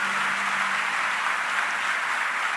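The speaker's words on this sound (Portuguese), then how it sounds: "Podemos aplaudir mais uma vez o nome santo e bendito de Jesus." Church congregation applauding together during a worship celebration, a steady dense wash of clapping at moderate level with no break and no talk over it.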